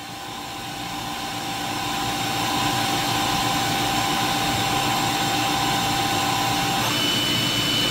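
A Doosan Puma MX-3100 machine spindle running at 1,000 RPM gives off a steady whine and hum that builds over the first few seconds and then holds level, with a faint tonal shift near the end.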